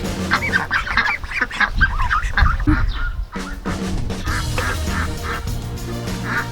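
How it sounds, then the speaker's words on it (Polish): A flock of ducks quacks and honks continuously, loud and close, with overlapping calls and a brief lull midway. "Widzicie to kaczki?"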